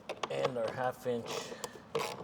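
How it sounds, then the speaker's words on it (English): A ratchet with a 1/2-inch socket backs out the last T40 screw on a saddlebag of a 2018–2024 Harley-Davidson Low Rider ST / Sport Glide, giving short, close clicking bursts in quick succession. "socket to remove the last one."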